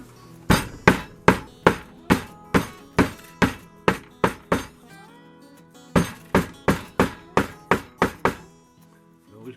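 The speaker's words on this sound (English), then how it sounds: "So I'm going to rattle your cage here now with my hammer." A hammer strikes a metal sand casting flask in quick, sharp, ringing taps, two runs of about a dozen blows separated by a brief pause, close and loud.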